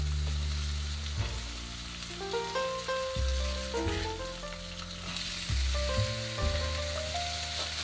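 Food searing and sizzling steadily in a hot pan, a close, continuous crackle with a few louder bursts as pieces shift, no voices over it.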